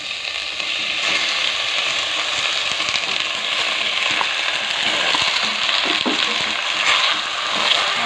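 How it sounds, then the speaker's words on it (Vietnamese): Pieces of fresh octopus stir-fry in a pan for octopus and bamboo shoot soup, giving a loud, continuous sizzling hiss with faint stirring scrapes throughout and no talking. "Đó, mình cho cái phần bạch tuộc vào mình xào qua"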